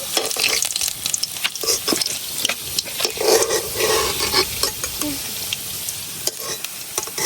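Kakrol (teasel gourd) fritters frying in hot oil in a village kitchen, a continuous crackling sizzle with intermittent scraping and stirring clicks, close and fairly loud, with no talking.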